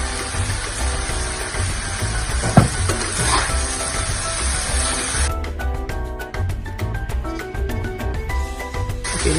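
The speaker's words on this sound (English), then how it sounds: "Now I'm going to give it a good stir" Mee goreng being stirred and fried in a pan, a loud continuous sizzle with scraping strokes and one sharp clank early on, the hiss turning into a rapid crackling pattern in the second half.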